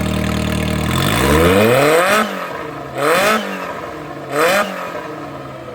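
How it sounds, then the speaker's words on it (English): A Hummer H2 with an RPM Big Mouth cat delete and its E-valve open sits at a loud, rumbling idle, then climbs in pitch and snaps through three sharp revs that each fall back to idle. "it's substantially louder at idle. Rev it up for me."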